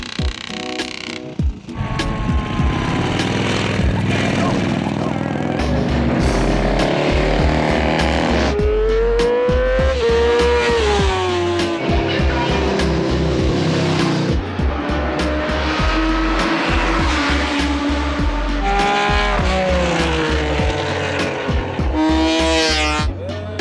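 Racing cars at the Gueux circuit near Reims during a classic car weekend, engines roaring loudly and continuously with rising and falling revs and gear changes, cars passing close, with tire squeal near the end.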